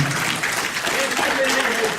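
Audience applause for a regional convention committee standing at a NERC Region 4 gathering, a dense steady wash of clapping across the room with some voices mixed in.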